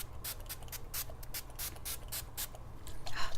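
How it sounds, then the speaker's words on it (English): Repeated short hissing bursts of a spray bottle misting primer water, steady and close, with no talking. "So now I'm gonna spray some more of this primer water."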